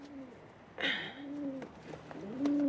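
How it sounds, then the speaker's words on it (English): Pigeons coo nearby in low, rolling, repeated calls, with a brief flutter or rustle partway through. "Brought you some pigeons."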